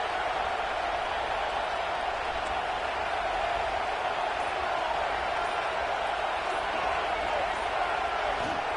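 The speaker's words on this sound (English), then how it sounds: "this crowd trying to help this defense rise to the occasion" Stadium crowd noise in a football video game: a steady, unbroken roar from a large crowd that holds the same level throughout.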